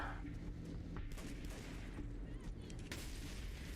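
Video game combat: rapid gunfire and heavy explosions boom in a dense, rumbling barrage, with sharp bursts standing out from a thick low-end roar.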